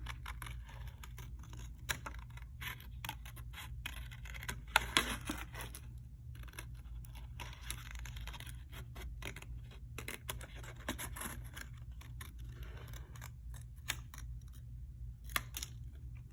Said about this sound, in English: My scissors stay in the same spot, and I'm using my other hand to move the paper.